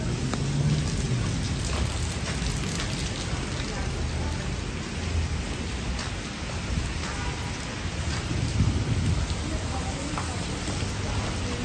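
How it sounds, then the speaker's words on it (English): Light rain falls steadily in Midtown Manhattan near East 43rd Street and the Chrysler Building, a continuous hiss mixed with city noise and a voice talking at times. "Now, it's not too much of rain, which is good"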